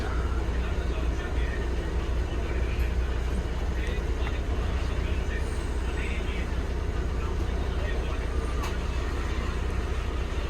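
A steady low engine drone with road rumble from inside a moving city bus in Coimbatore, continuous throughout with faint talk in the background.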